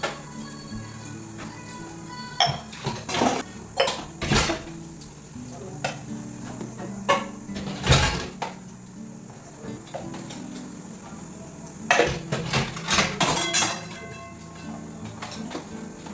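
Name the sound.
rinsing dirty dishes and utensils with water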